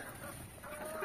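Arab breed chickens clucking faintly in a pen, a soft, steady murmur of hens with no voices over it.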